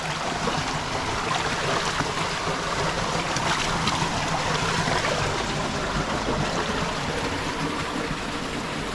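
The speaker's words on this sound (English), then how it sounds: "Ramo is catching the fresh spring water" Fresh spring water runs straight up out of rock at an outdoor cooking spot in Jamaica. It makes a steady, full rush of flowing water that stays close and continuous the whole way through, with no voices.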